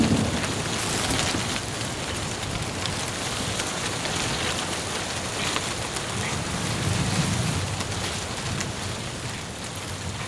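Heavy rain pours down steadily in a dense, loud hiss, with faint rumbles of distant thunder in the background.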